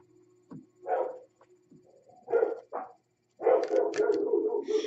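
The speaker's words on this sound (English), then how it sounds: "I apologize for the dogs barking." Dogs bark in short separate bursts nearby, two quick yaps, then a pair of sharper barks, then a longer run of barking toward the end, with faint whimpering between.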